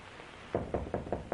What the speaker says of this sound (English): What's that?